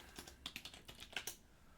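Typing on a computer keyboard, a quick irregular run of nearby key clicks with a few louder taps, with no voices.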